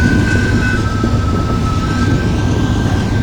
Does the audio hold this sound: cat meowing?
no